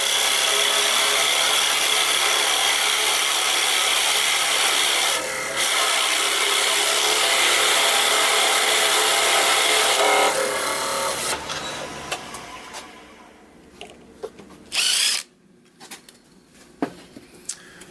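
A power drill with a 2-inch Forstner bit cuts shallowly into wood to mark a circle, a loud steady whirring grind for about eleven seconds that winds down, followed by scattered knocks and light handling sounds.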